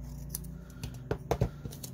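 Scissors cutting through a folded piece of material, a few crisp, close snips clustered over a couple of seconds, loud and clear with no talking.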